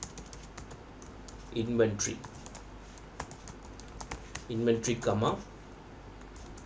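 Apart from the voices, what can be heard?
typing on a computer keyboard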